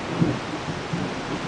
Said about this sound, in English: Things are rumbling. Hear that thunder?